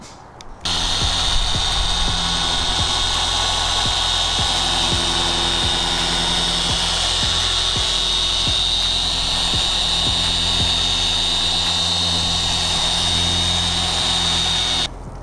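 A dual-action polisher with a coarse pad removes scratches from car paint, a loud continuous whine running steadily almost throughout, with faint periodic pulses under it.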